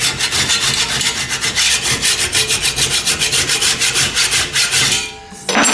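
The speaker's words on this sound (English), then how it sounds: "Use a file to just clean up the edge." A metal file cleaning up the edge of a steel scraper in a woodworking shop, steady rhythmic rasping strokes repeated close and loud for several seconds before stopping.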